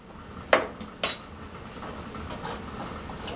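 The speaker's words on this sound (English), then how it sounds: "I'm going to mix it up" A big spoon mixing tomato paste and seasoning in a pot, starting with two sharp metal clinks of spoon against the pot, then softer stirring scrapes under faint background noise.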